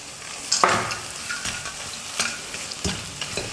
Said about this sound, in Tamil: கடைசியாக எண்ணெயில் வறுத்தெடுத்து வச்ச வேர்க்கடலையை சேர்த்து மிக்ஸ் பண்ணிக்க போகிறேன்.